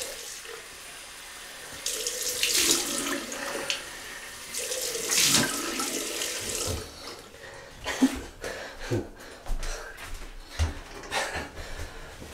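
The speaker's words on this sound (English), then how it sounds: "Cold water rinse." Cold water runs from a tap to rinse during a wet shave with a double-edge safety razor, a steady splashing stream that starts and stops in bursts, with the flow broken by brief handling splashes and taps later on.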